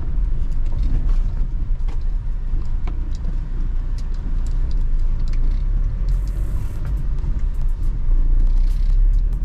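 A Mahindra Scorpio S10 SUV creeps through narrow village streets, heard as a loud, steady low engine and road rumble from inside the cabin, with faint creaks and no voices.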